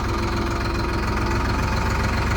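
A tractor engine runs steadily at close range in the cold open air of a potato-digging field, a continuous low, throbbing drone with a faint knocking pulse that never lets up.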